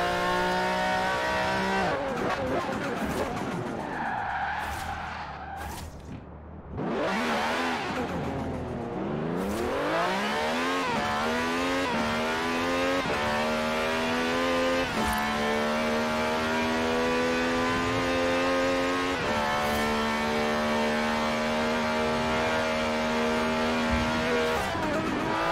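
A 2016 Dodge Viper ACR in Forza Horizon 4 roars through sustained high-revving engine drone, dipping briefly then climbing through gear shifts with steady rising pitch, loud and unbroken throughout.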